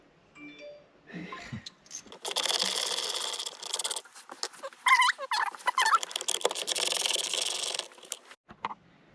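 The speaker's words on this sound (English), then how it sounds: "grab a 7mm socket and we will remove the steering column housing" Bolts on a Ford Ranger steering column housing being backed out with a 7mm socket and ratchet, a steady close rattling and whirring run lasting several seconds, with short clicks and handling noises before and after.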